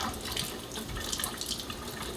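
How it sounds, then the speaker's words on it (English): Tap water runs steadily into a sink while a makeup brush is rinsed under the stream, a continuous close splashing hiss with no voices. "you can go ahead and run your brush under the water"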